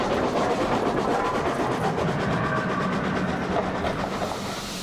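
A steam locomotive train rumbles steadily into Bristol Temple Meads station with a rhythmic clatter of wheels on track, loud and close, fading slightly toward the end.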